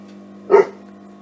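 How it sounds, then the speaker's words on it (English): A dog gives one short, half-hearted bark indoors near a sewing machine, brief and moderately close over a steady low hum. "And that's Molly barking at them, telling them off"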